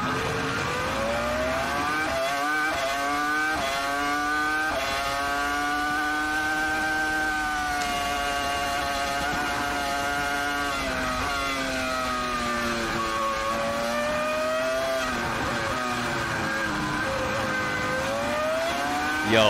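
Onboard a BMW FW26 Formula 1 car, the V10 engine screams at high revs, rising and falling through gear changes in a continuous loud, close howl with no voices.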